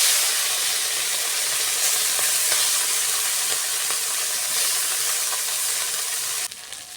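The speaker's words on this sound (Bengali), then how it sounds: "তেল গরম হয়ে গেছে, এবার মাছগুলো দিয়ে দেবো।" Fish frying in hot oil in a pan for a Bengali fish curry, a loud, steady hiss and sizzle running on without a break and dropping away sharply just before the end.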